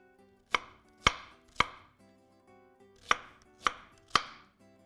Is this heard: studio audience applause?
no